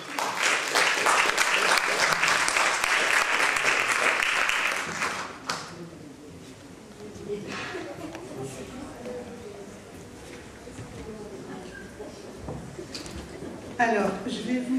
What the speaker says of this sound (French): On applaudit Louise.